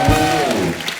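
Cheering and clapping from a studio audience on a Hindi comedy and music show, greeting the band's guitarist Dinesh; a short, loud burst that fades within a second.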